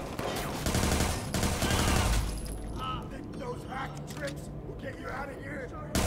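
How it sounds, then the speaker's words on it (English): Gunfire in the video game Watch Dogs 2 crackles in rapid, dense bursts for the first couple of seconds, then thins to scattered mechanical clicks, with a voice talking over the action. "I'm shooting guns"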